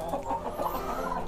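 Hens clucking steadily and close by on a Greek farm, a dense, continuous run of short clucks with no speech.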